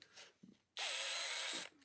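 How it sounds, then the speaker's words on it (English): Power drill boring a pilot hole into a wooden cutting board, a loud steady whir lasting about a second after a few faint knocks, then cutting off. "You always want to drill a pilot hole"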